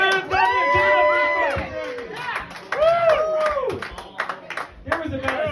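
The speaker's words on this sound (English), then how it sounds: "There was about as many people clapping as we have wins this year." A small comedy-club crowd claps and cheers for the Kraken hockey team, with scattered whoops and shouts mixed into loud, lively voices close by in a bar room.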